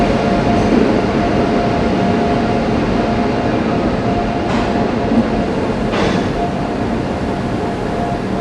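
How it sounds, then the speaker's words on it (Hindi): A passenger train pulling out of Raipur Junction railway station on the Howrah–Mumbai main line, heard from on board as a loud, steady rolling roar with faint rhythmic wheel clatter throughout. "अभी हम लोग रायपुर जंक्शन रेलवे स्टेशन से रवाना हो चुके हैं"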